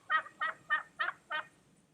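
Five evenly spaced, harsh squawks from chickens and roosters, fairly close and alone, each a short raucous burst with brief gaps between.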